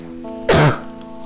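One short, sharp cough, close and loud, bursts out of an otherwise quiet room and fades within a fraction of a second.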